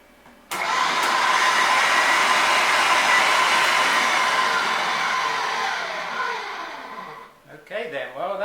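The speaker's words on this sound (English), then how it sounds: "I'm going to put this through the grinder for the second time" A meat grinder grinding sausage mix for a second pass starts abruptly and whirs loudly and steadily for several seconds, then winds down as a voice begins speaking.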